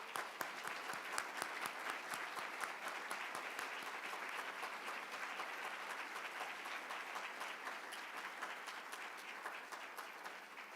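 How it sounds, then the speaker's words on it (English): Audience applause at an honors medallion ceremony for two award recipients, a steady crowd of clapping hands with distinct rhythmic claps standing out, moderately distant and sustained for about ten seconds. "Let's give them a round of applause."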